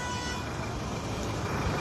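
Car horns blare in jammed city traffic, a dense wall of honking and engine noise packed together with no break.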